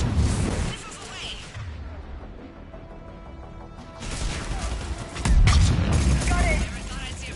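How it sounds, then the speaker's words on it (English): Missiles launching in a Mass Effect cutscene: a loud opening whoosh and rumble fades into a quieter stretch, then heavy booming launches swell again near the end, with voices speaking between them. "Missiles away."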